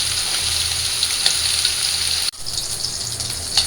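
Fish sizzling steadily in hot oil in a pan, a continuous crackling hiss with a brief dip partway through before the frying resumes, close and moderately loud, no talking.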